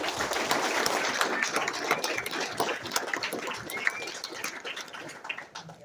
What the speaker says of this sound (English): let's give a round of applause for law enforcement, please